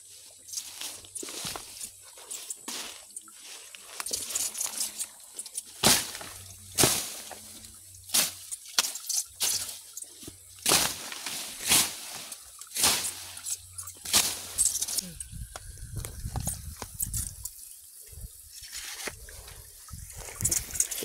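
Strong natural spring water flows and splashes steadily outdoors with irregular louder gushes and trickles, growing rougher and fuller toward the end.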